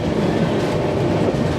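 A superfast express train runs from Rajahmundry toward Chennai, its wheels rumbling steadily and loudly on the rails throughout, heard close from on board with a dense, continuous roar.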